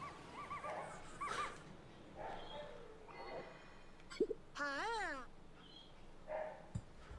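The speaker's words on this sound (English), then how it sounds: "What are those dogs going off about?" Dogs in the Pikmin 4 video game yipping and whimpering in short, pitched cries among soft game ambience, fairly faint, including one sweeping, wavering howl in the middle.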